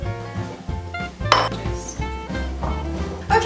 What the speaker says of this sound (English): So I'm just going to divide that up into a couple of bowls.